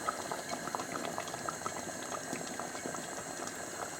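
Spicy vegetable stew bubbles and simmers in a pot, a steady close fizzing and popping of liquid that stays quiet and even throughout, with no talking.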